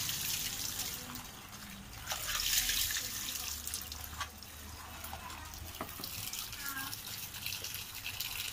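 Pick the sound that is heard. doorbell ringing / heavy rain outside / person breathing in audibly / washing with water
washing with water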